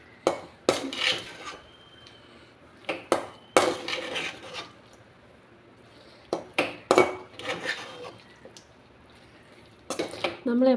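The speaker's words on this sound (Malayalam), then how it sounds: "നല്ലപോലെ മിക്സാക്കി കൊടുക്കണം." Fried cauliflower for gobi manchurian is tossed and stirred in a pan, giving irregular bursts of utensil scraping and clanks against metal, fairly close and moderate in level, with quiet gaps between the stirs.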